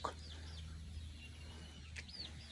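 Chickens cluck softly in a few short calls near their nesting spot over a low steady hum, fairly quiet and somewhat distant.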